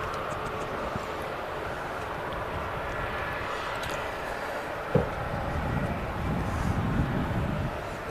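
Aircraft holding short of a runway at Manchester Airport, a distant, low, steady engine rumble and hum that swells slightly, with one sharp knock partway through.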